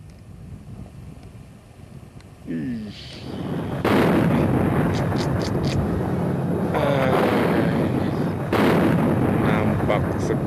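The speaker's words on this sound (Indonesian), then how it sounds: "disertai suara dentuman yang terus sambung menyambung" Deep booming blasts from a volcanic eruption rumble continuously, building into a heavy roar with wind noise, as a voice talks faintly underneath.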